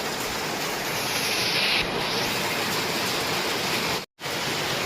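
Heavy rain pouring at a Shiva temple, a dense, steady roar of falling water that stays loud and even throughout, broken only by a brief dropout near the end.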